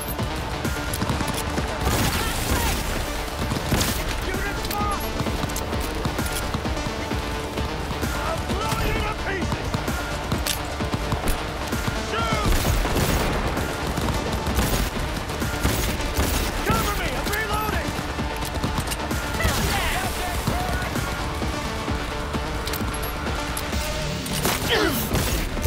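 Continuous point-blank gunfire fills a combat scene in Cyberpunk 2077, loud and relentless, with repeated shot bursts over game music and effects and occasional talk beneath.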